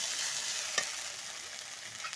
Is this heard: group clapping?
no